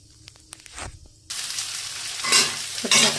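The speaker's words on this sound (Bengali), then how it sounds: "ছোটো ছোটোর মতো পেঁয়াজ কুচি দিয়ে দিয়েছি। এবার ভালো করে পেঁয়াজটাকে ভেজে নিয়ে" Chopped onions dropped into hot oil in a wok with whole spices: a few quiet ticks and knocks, then a sudden loud close sizzle that swells and crackles steadily, with no talking.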